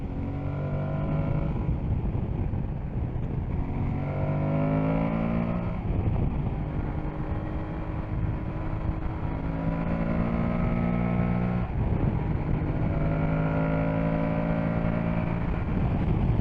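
An Aprilia Tuareg 660 motorcycle's engine revving repeatedly, each rising howl climbing in pitch before dropping back, several loud surges in sequence close by with no talk.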